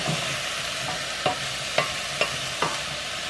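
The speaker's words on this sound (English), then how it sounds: "Give it a stir." A spoon stirs butter beans in a soup pot over the heat, giving four soft scraping knocks at a slow, even pace. A low simmering hiss runs underneath.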